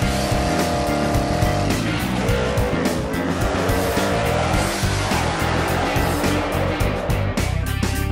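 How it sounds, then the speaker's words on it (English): A Plymouth Superbird muscle car with a 446 engine and 4-speed, a loud continuous engine roar with shifting revs and crackle, close by and steady throughout. "What kind of car is this again? It's a Superbird"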